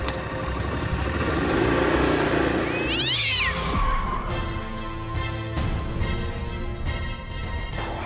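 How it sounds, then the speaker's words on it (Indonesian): A cat lets out a sharp, rising meow as it passes close by, set against a steady rumble of car engine and traffic noise. "Itu tadi kucing lewat"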